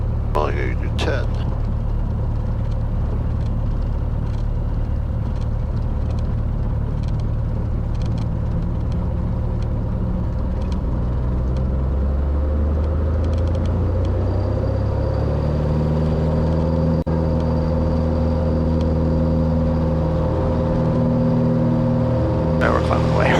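Cessna 182G climbing out after takeoff at Lewis University Airport, a steady droning piston engine and propeller roar heard from inside the cabin, with a pitch shift partway through and pilots talking over it.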